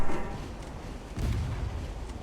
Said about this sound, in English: the French is fighting back with 6 of her guns